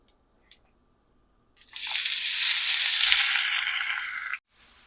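Dried red chilies hit hot oil for kadai chicken, a sudden loud sizzle that bursts in and hisses steadily for about three seconds, then cuts off abruptly after a brief faint click beforehand.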